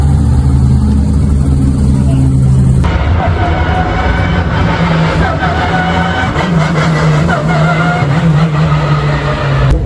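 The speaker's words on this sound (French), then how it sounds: "Regardez le nombre de GT3 qu'il y a, en fait c'est dingue." GT3 race cars on the Le Mans circuit during a track day, a loud continuous engine roar with passing cars blending into a dense, sustained drone.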